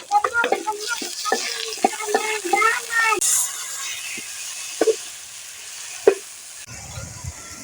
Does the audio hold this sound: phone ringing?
no